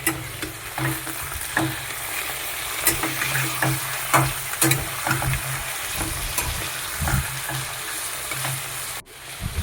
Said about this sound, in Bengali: চিকেনটা দেওয়ার পরে একটুখানি নাড়াচাড়া করে নেবো।